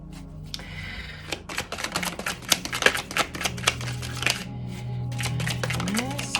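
Tarot cards shuffled and drawn by hand, a quick run of crisp riffling clicks and snaps up close, then softer slides as cards are pulled, with a low background hum.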